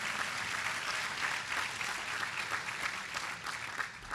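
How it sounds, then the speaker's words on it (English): An audience applauds steadily for Reverend Richardson at a Crusader for Justice award ceremony honoring Governor Cuomo, a dense even wash of clapping that stays moderately loud and unbroken throughout, with no voices over it. "Let's give him a round of applause"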